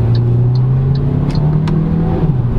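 A 2022 MG HS Trophy compact crossover SUV accelerates hard in super sport mode, its engine drone rising steadily with dual-clutch upshifts breaking the pitch, heard close from inside the cabin with no talk.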